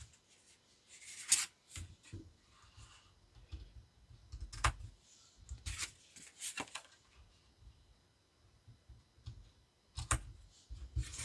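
Tarot cards being shuffled and drawn for a love reading, a series of soft, close papery riffles and taps with quiet pauses between them.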